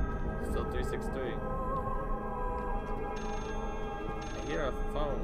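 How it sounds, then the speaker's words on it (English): A telephone rings in the horror game Layers of Fear, a repeated trilling bell in short bursts over a droning, eerie ambience, moderately loud. "Hear a phone"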